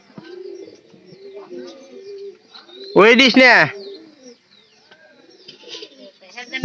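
A pigeon coos loudly and close for about a second, with a few faint chirps and people talking quietly before and after.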